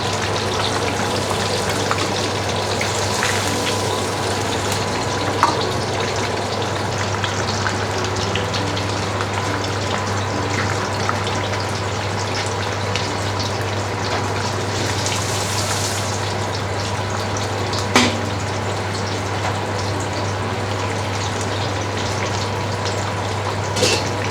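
Fish frying in hot oil, a dense, continuous sizzle and crackle with occasional pops, steady and close with no talking.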